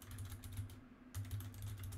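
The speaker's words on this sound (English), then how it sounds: "So next we'll type in sudo apt" Quick, light taps on a computer keyboard while entering a terminal command, a short run of keystrokes with a brief pause in the middle, quiet and close.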